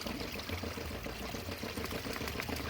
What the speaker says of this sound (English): Maybe I need to add a little bit more water, kind of thick.